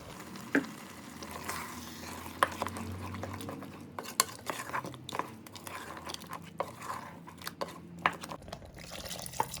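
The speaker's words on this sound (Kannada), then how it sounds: "ಸ್ವಲ್ಪ ನೀರು ಕೂಡ ಹಾಕಿದ್ದೀನಿ" Chicken gravy with ground tomato, coriander and mint bubbling and sizzling in a pan as water goes in, with soft stirring and a few spoon clinks against the pan, heard close up.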